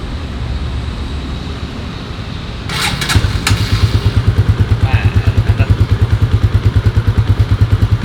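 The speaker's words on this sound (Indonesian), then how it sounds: "pembuktian motornya bisa nyala atau enggak." A Kawasaki KLX 150 S motorcycle under restoration, previously dead, cranks with a burst of clatter and then settles into a steady, rhythmic idle thumping close by.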